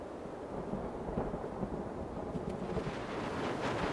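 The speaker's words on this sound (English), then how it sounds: "Another storm, but this time it brings long-awaited rain." Steady rumbling thunder with a low, continuous roar and rushing wind or rain noise, fairly loud and sustained throughout, a rainstorm in the Brazilian wild.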